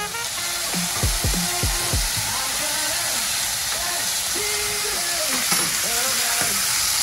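Bacon frying in a hot pan gives a loud, steady, close sizzle and hiss that runs the whole time, with a voice speaking briefly over it.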